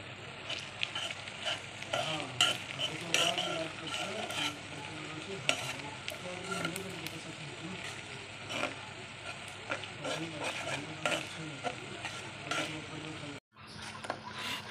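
Onions sizzle and fry in a pan for a pangas fish curry, with frequent stirring scrapes and clinks over a steady close-up hiss, and a brief break near the end.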